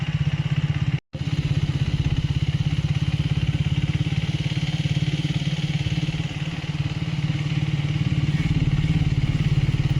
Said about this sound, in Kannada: ಈಗ ಈ ನ್ಯಾರೋ ವಿಲೇಜ್ ರೋಡ್ಸಲ್ಲಿ ರೈಡ್ ಮಾಡ್ತಾ ಇದ್ದೀನಿ.